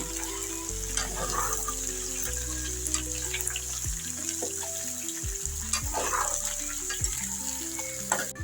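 Bottle gourd curry steaming and sizzling under a lid in a pan, a steady low frying hiss running throughout beneath sustained background music, close and fairly even, with no talk.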